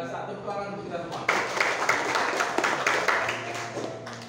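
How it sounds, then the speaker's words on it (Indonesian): Students in a school classroom clapping together, a short burst of bright overlapping claps mixed with voices, fairly close and steady for a few seconds. "Tepuk tangan untuk kita semua."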